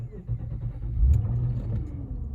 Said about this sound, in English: But when I start the vehicle, it should come on, and then all these lights are going to turn on and then go off.